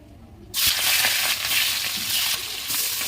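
Turmeric- and salt-coated rohu fish fries in hot oil in a wok, a loud, steady crackling sizzle that surges in abruptly after a quiet moment and continues throughout.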